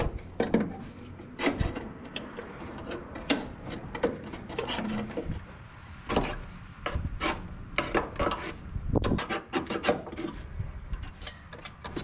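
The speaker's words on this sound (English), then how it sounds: "Scrape off that old gasket." Scraping an old gasket off a brake component from a 1961 wagon, a series of rough, rasping strokes in uneven bursts with short pauses, close up and fairly loud, no talking.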